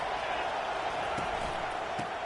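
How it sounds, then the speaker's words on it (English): A football stadium crowd at a Texas A&M versus Oklahoma college game roars in a steady, dense wash of noise, loud and continuous throughout with no breaks. "This crowd trying to make life miserable for this offense."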